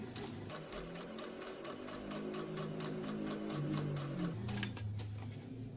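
Sewing machine stitching a cloth face mask, a fast, even run of mechanical needle clatter with a droning motor hum beneath, close up and continuous with no talking.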